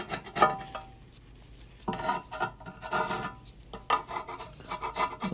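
Metal scraper rasps Citristrip-softened paint off cast iron parts in several short, gritty strokes with pauses between, close and moderately loud.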